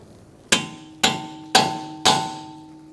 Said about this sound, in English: Make sure you peen your nut over by using a cold chisel and a hammer.